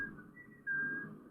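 A person whistling a short tune from the game Story of Eastern Wonderland, a clear close whistled melody of a few notes rising to a louder sustained pitch, alone.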